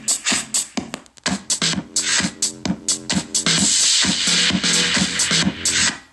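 Music played on an ECOROX waterproof Bluetooth speaker. A loud, punchy beat with thumping low notes sounds muffled and strained as the small speaker bottoms out, with the top end turning harsh and smeared partway through.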